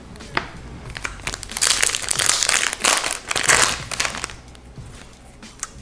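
A Yu-Gi-Oh! Code of the Duelist booster pack wrapper crinkles and tears open close up, the crackling foil rising into two louder rips before settling into scattered crinkles.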